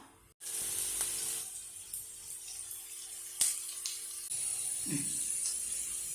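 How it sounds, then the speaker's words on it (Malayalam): Onion and curry leaves sautéing in coconut oil in a pan, a steady close hiss with brief clinks of utensils against the pan and no talking. "നമ്മൾ പാനിൽ കുറച്ച് സവോളയും കറിവേപ്പിലയും ഇട്ട് കുറച്ച് വെളിച്ചെണ്ണ ഒഴിച്ചു കൊടുക്കുക"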